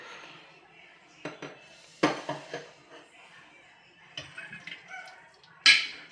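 A jar of homemade raw mango pickle is opened in a kitchen, with a few sharp clinks and knocks of glass and lid spaced apart, close and clear against a quiet background.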